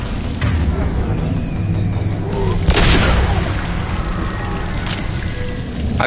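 A Mass Effect 2 explosion goes off as a single heavy boom with a sharp burst near the middle, over a continuous rumbling game soundscape with scattered crackles.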